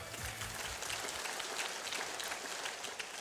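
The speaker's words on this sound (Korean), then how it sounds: "박수로 부탁드립니다." An audience at a company sales promotion ceremony applauds with steady, dense clapping that continues for a few seconds without a break.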